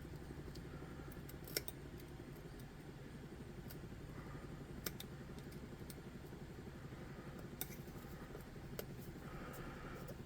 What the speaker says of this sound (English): I'm just going to snip off where it intersects with the pad.